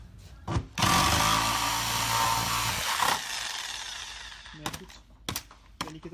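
A power tool bites into the thick wall of an old chest freezer being cut apart, a loud sustained grinding cut for a few seconds, then short bursts and knocks as it stops and restarts.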